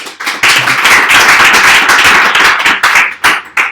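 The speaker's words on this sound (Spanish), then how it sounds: "¿Le damos un aplauso?" A lecture-hall audience at a Spanish-language programming talk claps for the speaker. The dense, loud applause starts abruptly, holds steady, then breaks into a few final separate claps.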